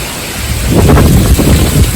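Strong gusty wind buffets the microphone outdoors with rain falling during a sudden downpour, a loud continuous roar rising after the first moments with no talk.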